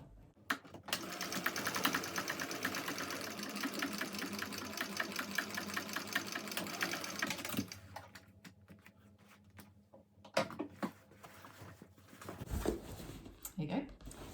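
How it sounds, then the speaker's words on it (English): A sewing machine stitches a second row along a Cornish backpack seam, running in a steady rapid rattle for several seconds, then stopping, followed by short bursts of stitching and handling noise with a voice nearby. "Now do a second row of stitching just like you did on the sides."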